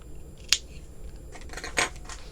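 Scissors snipping a crochet yarn tail, a few sharp close clicks and a soft cutting rasp against a quiet background.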